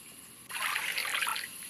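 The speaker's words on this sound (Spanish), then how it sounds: "Papelera llena con agua." Water pours from a wastebasket in the mobile adventure game Adventure Escape Mysteries, starting abruptly as a steady splashing trickle close up over a faint constant hiss, with no talking.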